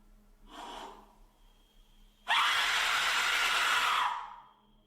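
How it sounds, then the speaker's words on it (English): An Aztec death whistle lets out a harsh, loud, shrieking scream lasting about two seconds, preceded by a softer breathy hiss. "now it's time for a scream with an Aztec whistle"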